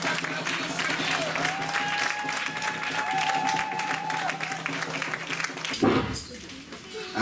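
A church congregation applauds in sustained, dense clapping that fills the room, with a voice speaking over it before the applause fades.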